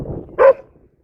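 A single short bark from a dog outdoors, sharp and fairly close, followed by quiet.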